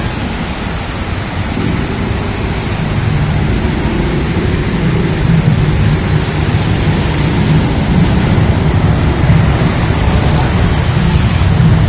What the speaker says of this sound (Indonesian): Jadi suara yang gitu-gitu itu adalah LRT ya.